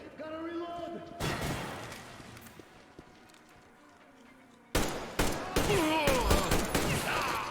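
Gunfire in the shooter game Metro Exodus: a burst at the start, a quieter stretch with someone talking, then rapid repeated shots and impacts toward the end, fairly loud and close.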